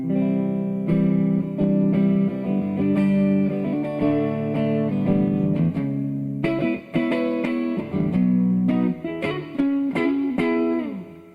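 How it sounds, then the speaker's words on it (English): A Stratocaster electric guitar plays clean, ringing chords and single notes with a bright, unprocessed tone and no pedal engaged, strummed steadily and then picked in short phrases, with no talking. "So here is the sound of the Strat, basically clean without any of the pedal engaged right now."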